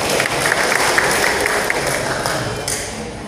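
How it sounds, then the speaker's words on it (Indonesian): An audience applauds at an annual members' meeting of a cooperative at Wado market in Sumedang, a dense, steady wash of many hands clapping that stays loud for several seconds. "Tepuk tangan Bapak Ibu."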